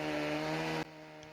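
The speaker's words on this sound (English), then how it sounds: "This is a Stihl 881, the biggest commercial chainsaw on the market, so it makes a bit of a racket." A Stihl 881, a large commercial chainsaw, roars loudly at steady high revs up close, then cuts off abruptly, leaving a quiet tail.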